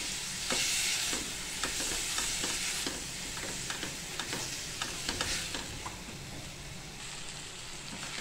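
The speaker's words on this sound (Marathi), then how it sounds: "बारीक चिरलेले 2 पिकलेले टोमॅटो आहेत. हे पण आता चांगले परतून घेऊ आपण" Two finely chopped ripe tomatoes sauté with masala in a pan: a steady close sizzle runs throughout, broken by repeated crisp scraping strokes of stirring.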